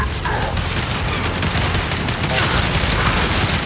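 Dense, continuous turret gunfire in the Gears 5 shooter, a loud, unbroken roar of rapid shots and battle noise that fills the whole stretch, with no pauses and no clear speech.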